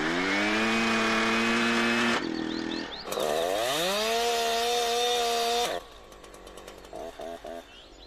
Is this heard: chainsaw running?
yes